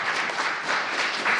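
A crowd in the Seattle City Council chamber keeps up a sustained round of applause, a thick, even roar of many hands clapping together with small surges.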